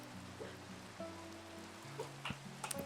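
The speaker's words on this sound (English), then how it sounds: "I think the rain's gonna leave and we're left with a beautiful sunny day" Soft, steady rain falls in the Minecraft video game as a faint wash beneath gentle, sustained game-music tones, with a few brighter patters near the end.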